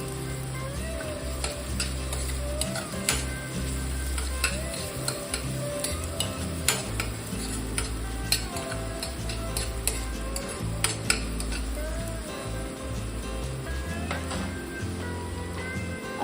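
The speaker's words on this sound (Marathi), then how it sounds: "कांदा हा परत छान अगदी परतून घेणार आहोत" Finely chopped onion sautéing in a pan for beetroot pasta, with a constant sizzle and frequent clattering spatula strokes and scrapes against the metal, close and busy throughout.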